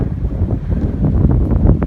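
Mountain wind blowing at night near Vysoka, a loud, continuous rumbling buffet with gusty surges hitting the microphone, dominated by low roar and no voices.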